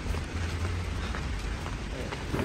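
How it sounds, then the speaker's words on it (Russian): Rain falls steadily outdoors in wet, spoiled weather, a continuous close patter of drops on surfaces with no voices, holding an even level throughout. "Дождь капает."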